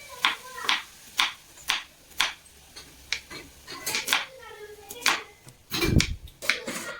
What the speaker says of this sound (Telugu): ఆనియన్స్ కూడా అయితే కట్ చేసుకోవాలి ఇలాగా సన్నగా అయితే కట్ చేసుకోవాలి